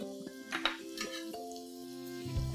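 Garlic, ginger juliennes and green chilies sautéing in a pan, with a utensil clinking and scraping against the metal in short bursts over a steady low background.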